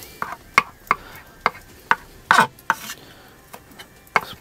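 Coriander, stalks included, chopped finely with a knife on a board: a series of sharp, close, irregular knife taps, about a dozen over a few seconds, one slightly heavier scraping hit in the middle, no talking.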